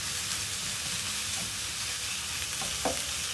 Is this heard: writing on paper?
no